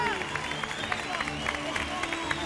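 A television studio audience applauds and cheers, a continuous crowded roar of hands blended with voices, heard somewhat distant and muffled under a sustained background tone.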